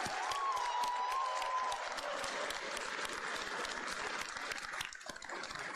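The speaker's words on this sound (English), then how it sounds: "Let's also give a gigantic round of applause to our new friends from Marjorie Stoneman Douglas" Crowd applause at the Never Again rally ahead of the March for Our Lives, steady clapping with cheers and a whistle held throughout, fairly close and dense with a few voices in the mix.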